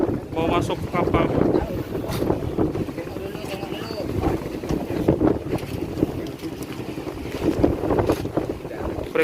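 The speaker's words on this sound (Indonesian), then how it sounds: "Ini dia kapalnya, Ekspres Bahari." The Ekspres Bahari passenger ferry on the crossing to Bawean produces a steady rumble of engine, water and wind noise, with voices and crowd sounds mixed in throughout.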